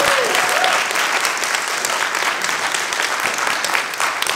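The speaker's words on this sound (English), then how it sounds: "do you want to clap a little?" Audience applause at a New York Comic Con 2021 panel on comics and Hollywood, a dense, steady wash of many hands clapping that holds loud and even for the whole stretch.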